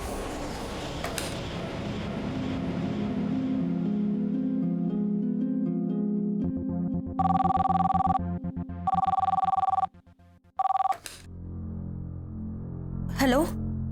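A telephone rings in a home, sharp repeated electronic bell bursts in a steady on-off pattern, preceded by a fading musical sting and followed by a voice.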